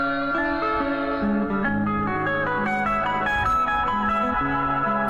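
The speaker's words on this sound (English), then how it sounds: "Reverb pedal that has crazy noises." An electric guitar runs through a reverb pedal, throwing out wild, shimmering effects: layered sustained notes and washy echoing tails played continuously and loudly, with no voices.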